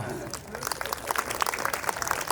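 Audience clapping at a Gujarati dayro folk programme held for a wedding, a steady close patter of many hands lasting a couple of seconds with a voice carrying over it.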